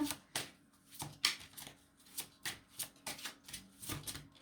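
Tarot cards are shuffled by hand, a quick uneven run of soft riffling slaps and flicks, close and quiet, with no talk.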